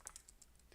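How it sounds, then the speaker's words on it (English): Keys clatter on a computer keyboard in a quick run of four or five light taps, close but faint, with no voices. "And here we're gonna be typing"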